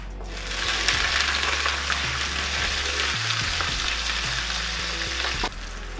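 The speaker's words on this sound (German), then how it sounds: "Und die Zucchini mit der Paprika, die kann man zusammen anbraten." Sliced zucchini and bell pepper fry in oil in a pan, giving a loud, steady sizzle close up with occasional stirring scrapes.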